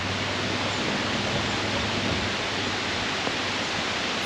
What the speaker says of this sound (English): this is a 15 to 20 foot tall waterfall going through a narrow rock chasm